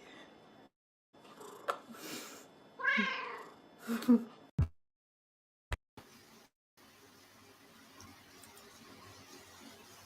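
A cat meowing several times in short, separate calls, fairly close but quiet, with gaps of near silence and a few sharp clicks between them.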